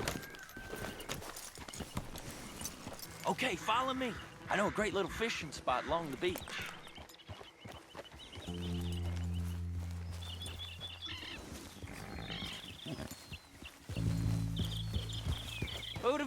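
Horse hooves clop in a steady rhythm during stretches of the clip in Red Dead Redemption 2, with a person talking over them and music or ambience underneath.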